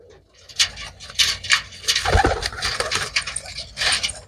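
Pigeons, sold as pure-bred birds, make low cooing and rustling sounds close by, with a busy, cluttered background of other birds throughout.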